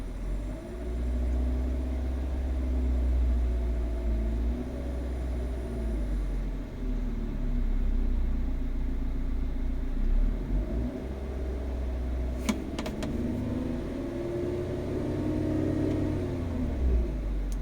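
A car engine holds a steady mid-range rev of about 2,000 rpm with solenoid-controlled variable valve timing on the intake and exhaust cams, a continuous low rumble close by with a few brief clicks partway through.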